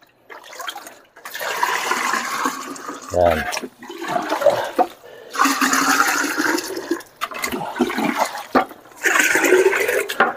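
Water pours onto a potted money tree plant in a steady splashing rush, starting and stopping in several bursts while a person talks over it.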